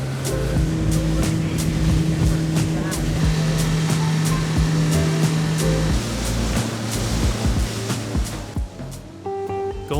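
A personal motorboat cruises through Tokyo's waterways, its engine droning steadily with water washing and splashing against the hull, while brief talk and passing city noise come through near the end.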